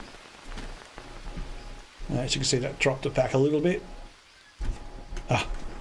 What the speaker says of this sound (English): And the rain stops.